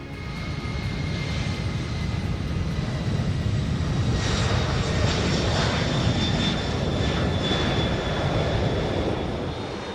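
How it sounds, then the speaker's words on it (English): Engines of a US Air Force C-5 transport aircraft roar loudly and steadily on the runway, with a brighter rising whine swelling in about halfway through; no voices. "the pilots enter the cockpit, turn the engines on, taxi the aircraft onto the runway,"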